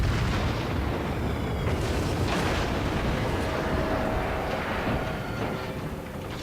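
Japanese battleship Fuso from World of Warships fires its main guns in a heavy, continuous roar of booming blasts that blend into dense low rumble throughout, loud and close with no talking.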